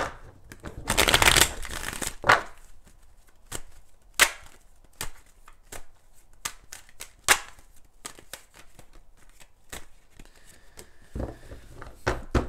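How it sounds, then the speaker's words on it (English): A deck of tarot cards being riffled and shuffled, with a dense flurry of crisp snaps at the start followed by scattered sharp taps and flicks. "I cannot shuffle right now."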